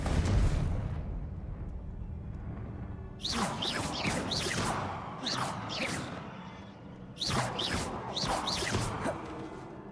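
Spells cast in the Hogwarts Legacy video game, with swooshing magic and booming fiery blasts coming in two dense clusters of rapid bursts over a rumbling bed, loud and close.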